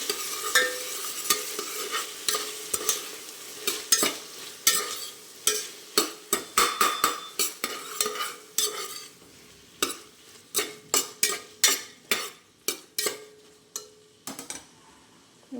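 Tomato, onion and vegetables stir-fried for pulao, a spatula scraping the pan in quick repeated strokes that grow sharper and more rhythmic over a soft sizzle, with no talking.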